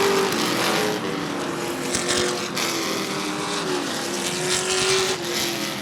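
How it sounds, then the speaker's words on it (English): Sportsman race cars battle at Rockford Speedway, their engines droning loud and continuous as the pack roars past, with rising and falling pitch and no commentary over it. "Real hard racing for the Fitzgerald Equipment Sportsman cars."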